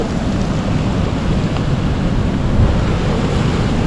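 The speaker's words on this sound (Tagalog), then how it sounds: "rinig na rinig natin yung daloy ng tubig" Loud, continuous rushing floodwater from an overflowing, blocked spillway roars steadily throughout, a dense broadband wash with no pauses.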